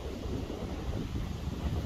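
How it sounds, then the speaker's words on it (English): Steady wind on an open hilltop, a continuous low rumbling roar of gusts buffeting the microphone, with no voices. "Windy."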